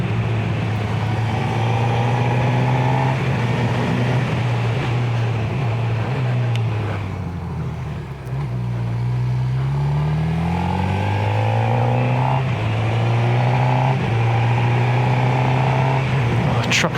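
Several motorcycles pass on the Umbrail Pass mountain road, their engines loud and close, rising and falling in pitch as they come by one after another, with steady droning in between.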